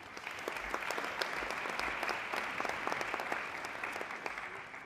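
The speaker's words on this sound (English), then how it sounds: "Give yourself a round of applause." Audience applause during a city address, a steady, fairly faint patter of many hands clapping from a distance without pause.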